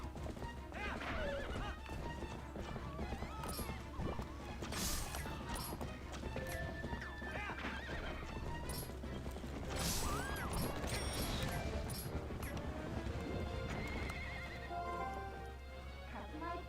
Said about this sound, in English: Hey, that horse is running in circles.